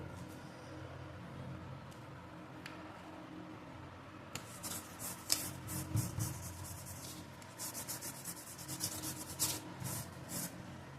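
Oil pastel is rubbed on paper while a lotus is drawn, at first quiet and then quick close scratchy strokes in bursts, faint in a quiet room.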